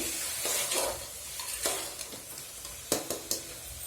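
A spoon stirs a thick brinjal (eggplant) curry in a pan, soft scraping and sizzling with a few sharper clinks against the metal.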